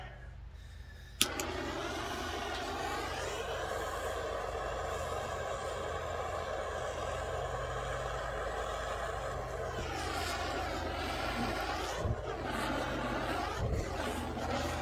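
A stove lit for wax rendering, a sharp click followed by a steady low roar of burner flame that runs on evenly, with faint knocks and handling sounds near the end.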